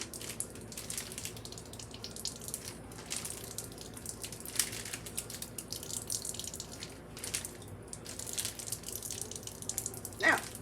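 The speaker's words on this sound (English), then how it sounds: "We're going to drain it just to get any excess moisture out of there" Thawed frozen zucchini and snap peas drain in a kitchen, giving faint, soft dripping and trickling water with light patter throughout, quiet and close.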